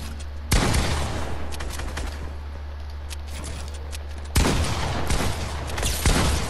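Bursts of SMG gunfire in a shooter video game, a loud crackling volley at the start and another near the end, with steady firing between and no talk.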